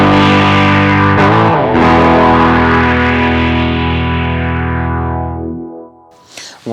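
A guitar played through a Line 6 Helix LT with a delay effect rings out as a loud, distorted sustained chord that swells and then fades away, followed by a brief quieter pick.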